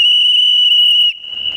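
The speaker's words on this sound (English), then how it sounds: "That was a good whistle." A referee's whistle at a beatbox battle blows one long, loud, steady blast for about a second, then continues thinner and fainter over a brief stir of crowd noise.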